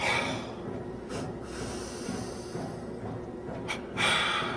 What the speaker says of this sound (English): That's double inhale, double exhale.